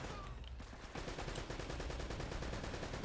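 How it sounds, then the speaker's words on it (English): Machine-gun fire in Uncharted: Drake's Fortune, a loud, continuous rattle of rapid shots that fills the whole moment after a brief lull, with no talking. "It definitely sounds like there's a machine gun going off."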